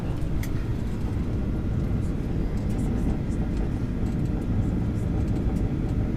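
Aboard a Royal Air Maroc airliner landing at Marrakech, a loud, continuous cabin roar of engine and airflow noise holds steady throughout, with no clear speech over it.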